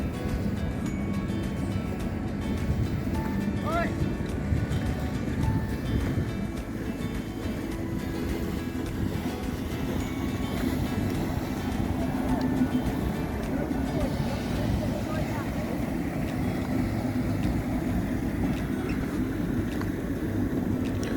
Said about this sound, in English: somebody not giving way to sail in their motorboat